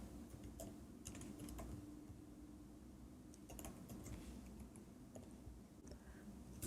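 Code being typed on a computer keyboard: quiet, fairly close keystrokes clatter in irregular bursts over a low steady room hum, with no voices.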